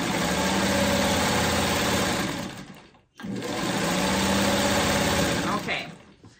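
Home sewing machine stitching quilt block fabric pieces, a loud steady close mechanical whir running for about three seconds, a brief stop, then running again, with no talk.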